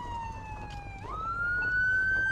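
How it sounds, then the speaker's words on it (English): Ambulance sirens wail on an outdoor street, a steady tone that glides down and then jumps to a higher pitch, loud and continuing without pause, with faint traffic rumble beneath. "There's like 2 ambulances coming up here."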